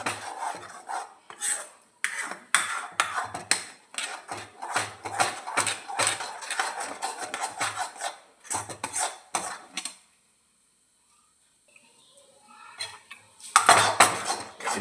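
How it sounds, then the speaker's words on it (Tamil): A spoon scrapes and stirs thick adai batter for kozhukattai in a pan, giving rapid rhythmic metallic scraping strokes close by, then a brief pause before a final burst of stirring. "நல்லா கொழுக்கட்டை பருவத்துக்கு கிண்டிக்கிறேன்."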